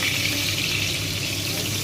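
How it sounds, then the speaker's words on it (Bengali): Brinjal slices fry in hot oil in a home kitchen, giving a constant, even hiss and sizzle with no voices. "এই বেগুন ভাজা হচ্ছে"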